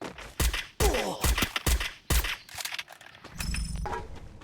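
Rapid bursts of video game gunfire crack out in a fast, uneven volley, several sharp loud shots with short gaps, followed by lower rumbling effects toward the end.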